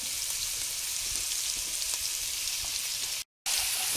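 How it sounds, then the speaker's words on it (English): Garlic and parsley sauté in a pan for shrimp scampi with a steady, close, hissing sizzle that runs unbroken apart from one brief cut of silence near the end. "we're going to start sauteing the garlic and the parsley"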